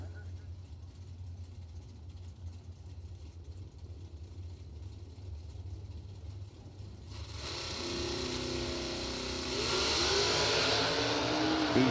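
Camaro drag race car launching down the strip, a low engine rumble building into a louder, rising roar midway that swells further toward the end, with an announcer talking over it.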